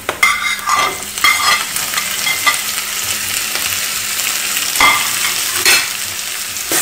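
Tomatoes added to fried onions and mashed kidney beans sizzle loudly in a pan. A steady frying hiss runs throughout, broken by a few louder stirring scrapes, close and with no talk.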